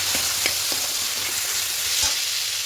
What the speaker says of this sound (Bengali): এবার খুব ভালো করে 2-3 মিনিট মশলাটাকে একটু কষিয়ে নেব।